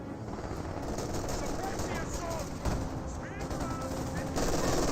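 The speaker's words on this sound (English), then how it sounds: "MG42 eyeing to get some good shots there on that conscript squad" Bursts of MG42 machine-gun fire in the Company of Heroes 2 game rattle within a dense wash of battle noise, with a voice talking over it.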